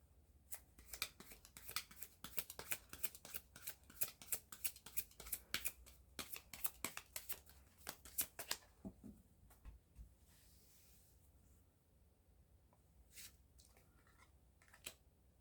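Tarot cards being shuffled in a rapid flurry of crisp flicks and riffles, then a few separate soft snaps as cards are drawn and laid down, close and fairly quiet with no talking.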